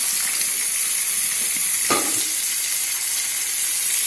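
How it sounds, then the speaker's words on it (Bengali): Potato pieces sizzle in hot oil with black cumin already browned in the pan, a loud continuous frying hiss with a brief louder crackle as the potatoes stir in. "এবার তেলের মধ্যে দিয়ে দেবো আলুটাকে"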